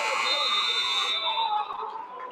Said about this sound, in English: Lester, step back at the buzzer.